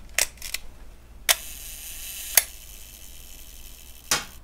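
An early Leica M2 rangefinder camera with a freshly overhauled shutter fires four crisp, sharp mechanical clicks at irregular intervals, close and clear in a quiet room.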